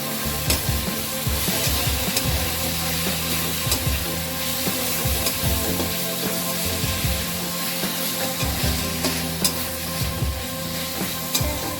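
Ground cumin and coriander sizzle and fry steadily in a hot pan for an okra curry, while a spoon stirs and scrapes through the spices in a constant close rhythm.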